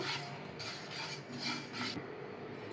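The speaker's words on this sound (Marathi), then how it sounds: "त्याच पॅनमध्ये आपण आहे ना तीळ आता सुरुवातीला भाजूयात 1-2 मिनटं" Sesame seeds dry-roast in a pan for chutney powder, giving a rhythmic series of four or five raspy, scraping stirring strokes over a continuous soft sizzle-like hiss, close and moderately quiet.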